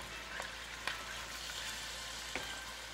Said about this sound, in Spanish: Medio sofrito lo estoy haciendo. Voy a terminar de cocinarlo todo.